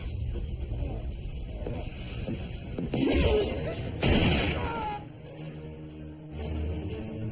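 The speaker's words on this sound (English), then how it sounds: "That's gunfire." Bursts of gunfire crack out amid a chaotic, noisy scene in a period TV crime drama, with a couple of loud sharp reports standing out over a rumbling background.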